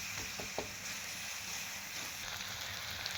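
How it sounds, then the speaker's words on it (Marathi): Chopped onion sautéing in oil in a pan for a farshan bhaji, a steady crackling sizzle with a few light knocks of stirring near the start. "कांदा चांगला परतून घ्यायचा आहे."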